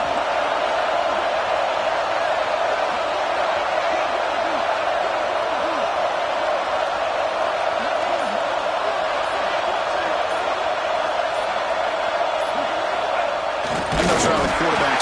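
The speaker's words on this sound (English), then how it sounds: "This crowd is trying to inspire this defense to make a big red zone stop." A football stadium crowd at an Ohio State Buckeyes vs UCLA Bruins game roars during a red-zone goal-line stand, a loud sustained wall of cheering that swells near the end.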